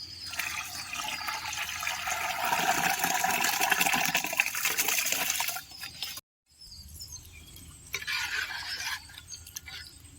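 Water pours steadily onto rice in a pot for several seconds, a broad rushing splash, then stops briefly before a shorter second pour follows, while cooking biryani.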